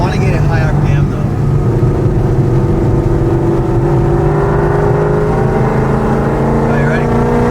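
A car on drag radials revving hard to high RPM, a loud continuous engine note climbing steadily in pitch as it accelerates, with faint wind and road noise beneath.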